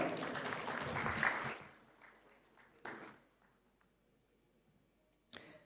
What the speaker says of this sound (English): Can we please welcome him with a humongous round of applause?